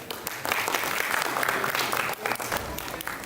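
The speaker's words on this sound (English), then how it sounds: "Let's give ourselves a round of applause" Audience applause at a school personal project exhibition, a dense steady clapping from a crowd lasting a few seconds, with a brief dip near the end before resuming.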